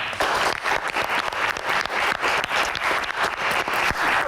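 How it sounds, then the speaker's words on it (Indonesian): An audience at a Q&A event for Indonesia's women air force pilots bursts into sustained applause, dense and steady clapping from a crowd with no talk over it. "Tepuk tangan."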